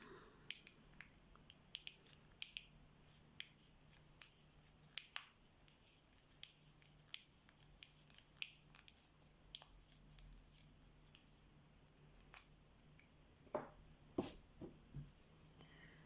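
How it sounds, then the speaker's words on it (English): A Koh-i-Noor multicolour magic pencil being sharpened, a faint series of short, irregular scraping clicks spread across the whole stretch, close and quiet, with no talk. "I'll just sharpen the outside layer of that pencil."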